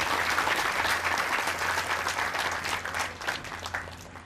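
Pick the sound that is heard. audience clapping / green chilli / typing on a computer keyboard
audience clapping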